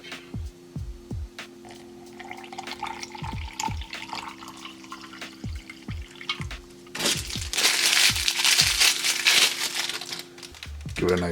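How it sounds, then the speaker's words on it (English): Water is poured into a cup of red punch drink powder from a 2017 tailored operational training ration, a loud, splashing pour that follows a stretch of packet crinkling and clunks. "Get some water."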